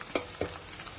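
Onions and spices frying in oil for chicken fry, a soft steady sizzle broken by two quick utensil knocks.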